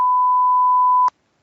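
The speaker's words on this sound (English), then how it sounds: "That was a bit of a beeping moment" A single loud, steady electronic tone of constant pitch breaks into a weekly Microsoft 365 online call broadcast, holding for about a second before cutting off abruptly with a small click, followed by silence.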